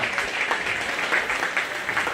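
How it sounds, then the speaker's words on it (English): A crowd gives a brief round of applause at a county fair 4-H/FFA sheep show, steady light clapping from the stands, close and continuous. "Let's go ahead and give our championship drive a nice round of applause."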